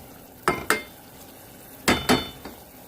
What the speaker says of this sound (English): now I'm taking a break and sauteing onions and celery